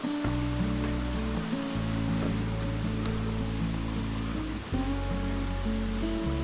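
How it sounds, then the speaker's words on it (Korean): Steady rushing water from a waterfall beside a forest trail, constant and moderately soft, with low tonal hum layered underneath and no talking. "이 물소리 참 좋죠"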